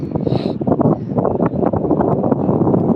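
Strong wind buffets a mobile phone microphone outdoors, making loud, uneven low rumbling gusts that pulse and thump throughout, with no voices heard.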